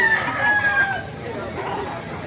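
A rooster crows once, fairly close, its drawn-out call rising and falling over a background of other birds and faint voices, at a gamecock market in Baliuag, Bulacan.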